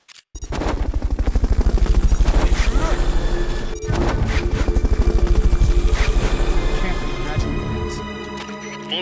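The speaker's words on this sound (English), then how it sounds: "Fulton recovery helicopter is complete." Heavy rhythmic rotor thumping of a Fulton recovery helicopter in Metal Gear Solid: Peace Walker, loud and close, with a brief dropout midway before the pulsing resumes and gradually fades.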